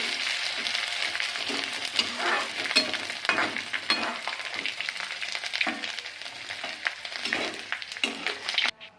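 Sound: edible gum (dink) frying in hot oil

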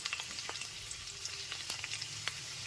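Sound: stirring diced potatoes frying on medium flame

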